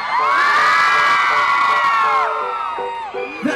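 A concert crowd at a live pop performance screams and cheers loudly, a sustained high roar that gradually tapers off.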